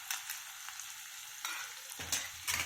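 Prawn masala with ginger garlic paste, green chili, turmeric and chili powder is stirred in a hot pan, giving a bright steady sizzle broken by a few scraping stirs close up.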